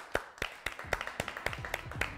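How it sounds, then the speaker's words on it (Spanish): An audience claps in a studio, a steady run of sharp separate hand claps at a moderate distance, fairly quiet and with no voices over them. "fuerte el aplauso,"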